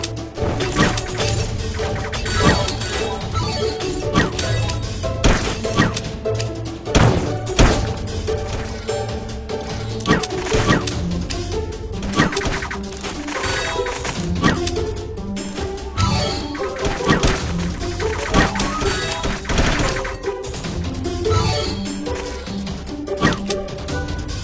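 Repeated bomb explosions and crashing impacts in the mobile game Arena of Arrow, a dense, continuous barrage of thuds and smashes mixed with game sounds.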